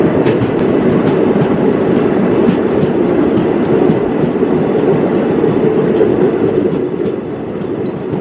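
A passenger train on the Kolkata to Dooars route rolling through a tunnel, a loud, dense, enclosed rumble with a rapid clatter of wheels that holds steady before easing slightly near the end, with no voices.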